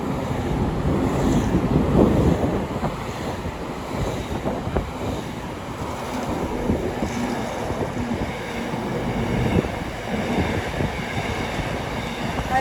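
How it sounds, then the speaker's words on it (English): An Avanti West Coast Class 390 Pendolino passes through Stafford station on the West Coast Main Line with a loud, rushing roar of wheels and air. Wind buffets the microphone, and the noise swells and eases over several seconds. "There we have 390-050 passing on a Avanti service from London Euston to"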